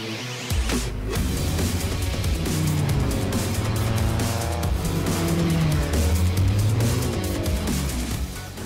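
A car corners hard on Michelin tires, its engine droning loudly and steadily while the tires squeal and scrub through the turns, with no talk.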